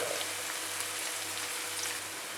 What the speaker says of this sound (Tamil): இது வந்து வெங்காயம் கொஞ்சம் ப்ரௌன் ஆகிற வரைக்கும் சாட்டே பண்ணிக்கணும்.